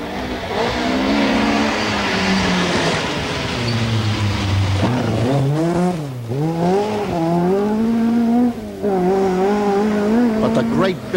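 Audi Quattro rally car on a narrow early stage of the 1984 Donegal International Rally, engine loud and close, revving up and down through gear changes with tire noise, under a commentator's voice.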